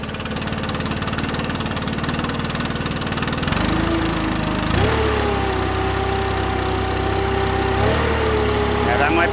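A Stihl BR600 backpack leaf blower engine runs close by, a steady mid-pitched drone whose pitch steps up and settles as the idle changes, with talk partly over it.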